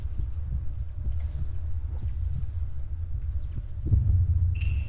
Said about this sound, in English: When you got the heartbeat sensor on point.